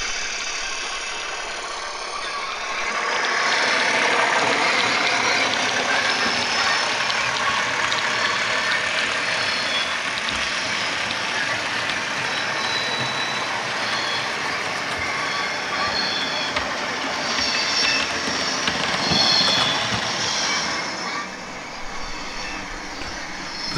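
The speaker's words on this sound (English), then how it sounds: "Here we see the Class 37 37041 Mary Queen of Scots hauling a mixed freight load on the passing loop through the station." Class 37 diesel locomotive hauling a mixed freight load along a passing loop through a station, a sustained loud rumble of engine and rolling wagons with squealing wheels, swelling as it passes and fading near the end.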